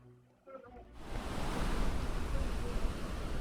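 Crashing surf from a Roblox tsunami game, a broad rushing roar that swells in after a quiet start and stays loud and steady, with faint talk in the game.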